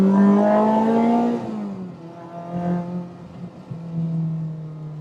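A supercharged K20-swapped Honda Civic Type R EK9 engine revs hard and climbs, then the pitch drops at a gear change and builds again, loud and close from inside the car.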